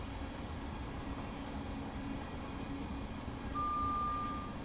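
Class 700 electric train in Train Simulator Classic, a low, steady rumble of running gear with a faint constant hum, joined near the end by a thin, high steady tone. Distant and quiet, with no talk.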